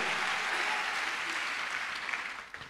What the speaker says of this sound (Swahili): Sasa wamepiga makofi wachache, pigeni anayeeleweka ya shangwe